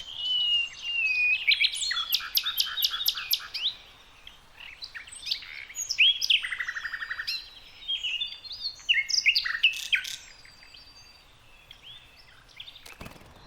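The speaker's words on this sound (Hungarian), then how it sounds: "A madarászok a világ egyik legszebb trillájú énekes madarának tartják." A common nightingale delivers its trilling song, with fast repeated notes, whistles and rattling trills in varied phrases, fairly close and continuous for several seconds, ending in a brief louder knock, with no speech.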